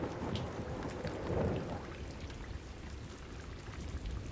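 Heavy rain pours down in Chotila during an intense downpour that dropped about 20 inches in 12 hours. It makes a steady, dense hiss of falling water, with a slightly louder swell early on and no talk.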